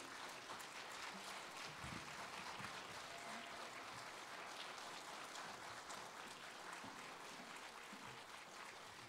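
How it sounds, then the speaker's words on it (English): An audience applauds after a Christmas concert, a full and sustained round of clapping that holds steady throughout, heard from a little distance in the hall. "One more round of applause, Corey and Elizabeth."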